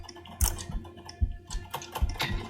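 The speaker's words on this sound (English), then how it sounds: "do not mess up anything that you are typing" Keys on a computer keyboard clack in a quick, uneven burst of close, crisp taps, with a few louder strikes among lighter ones.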